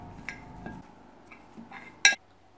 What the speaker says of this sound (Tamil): இப்போ நல்லா கலந்து விடலாம்